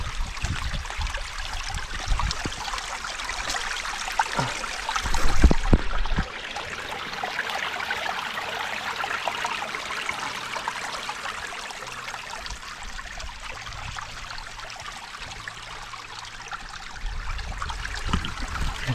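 Spring water trickles and burbles continuously close by, with a few soft knocks and bumps in the background.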